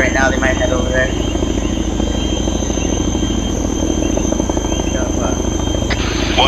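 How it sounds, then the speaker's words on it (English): Helicopter in the military video game ARMA 3, a steady loud rotor drone and engine whine running throughout with people talking over it on radio chatter. "they're getting in the helicopter right now"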